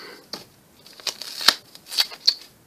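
Several quick, crisp scissor snips in an irregular run, close by and fairly loud against a quiet background.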